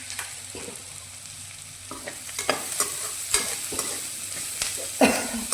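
Asafoetida and fennel seeds fry in hot oil with a quiet sizzle, broken by repeated clinks and scrapes of a spoon stirring in the pan.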